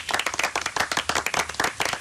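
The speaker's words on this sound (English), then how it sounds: "Have a round of applause" Studio audience on a live talk radio show breaks into a round of applause, a loud, steady patter of many hands clapping close by for about two seconds with no talk over it.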